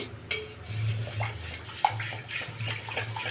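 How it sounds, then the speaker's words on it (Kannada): Water is poured into a pot of jaggery for moong dal payasa, a soft continuous splashing trickle with a few light clinks of utensils, close and fairly quiet. "ನಮ್ಗೆ ಎಷ್ಟು ಬೇಕೋ ಅಷ್ಟು ನೀರು ಹಾಕ್ಕೊಳ್ಳೋಣ"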